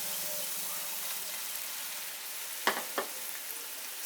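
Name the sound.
soya chunks sautéing in spice masala in a pan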